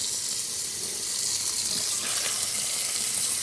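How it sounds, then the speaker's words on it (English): Cold water runs steadily from a kitchen sink tap into a sink holding a bowl of eggs on ice, a continuous close hiss and splash with no talk. "Cold water on."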